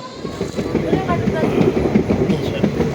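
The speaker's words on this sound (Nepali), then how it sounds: "अब ट्रेन गइरहेको छ है" A train rumbles past close by, steady and loud with a rhythmic clatter of wheels, while a voice talks over it.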